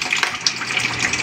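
Water rushes steadily into a Filipino household fixture, a continuous broadband gushing flow like a filling tank, close and alone with no voices.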